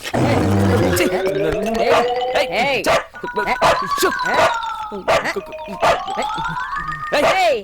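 A dog barks and howls repeatedly in a comedic film scene, loud and close, with sharp bursts between tonal howls, mixed with other voices and background sounds.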